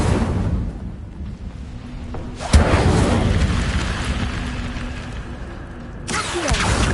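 An Incendio fire spell is cast in a video game, a sudden whooshing burst that swells into a sustained roaring rush before fading, with another impact near the end.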